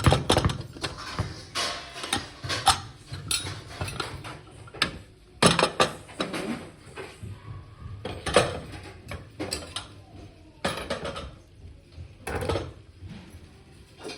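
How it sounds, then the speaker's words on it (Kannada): Pressure cooker being opened after whistling, with metal pots, lids and utensils clattering in a home kitchen; repeated sharp clanks and knocks come close and loud, in irregular bursts with no talk. "ಕುಕ್ಕರ್ ಓಪನ್ ಮಾಡ್ತಿದ್ದೀನಿ."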